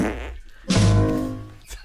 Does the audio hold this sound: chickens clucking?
no